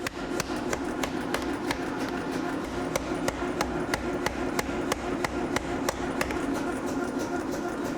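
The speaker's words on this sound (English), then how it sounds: "increase the force of the hammer blows, accelerating the process" Hammer blows forging Wootz Damascus steel ring out as sharp, evenly spaced strikes, roughly two or three per second, over a steady hum of workshop noise, with no voices.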